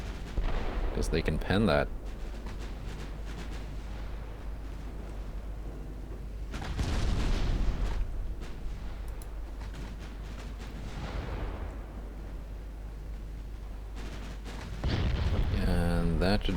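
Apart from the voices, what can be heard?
4.2-inch secondary guns firing AP shells, Ultimate Admiral Dreadnoughts video game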